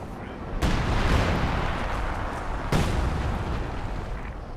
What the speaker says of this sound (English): this is the new artillery cover